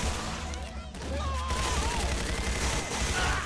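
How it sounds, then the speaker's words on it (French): Rapid gunfire from survivors shooting zombies in the video game Left 4 Dead 2, a steady stream of shots in the mid-ground with voices talking over it throughout. "C'est plus cool de tirer sur les zombies"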